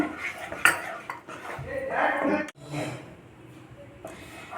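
Curd masala being stirred in a pan, with repeated close clatter and scraping of a metal utensil against the vessel, loud bursts then quieter, with some background voice.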